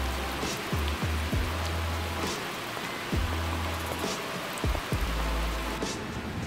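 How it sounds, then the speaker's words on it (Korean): Heavy summer rain falls suddenly over a countryside garden, a steady dense hiss of drops on surfaces with recurring low thumps and taps underneath, continuous throughout. "더위가 거치니 갑자기 비가 온다."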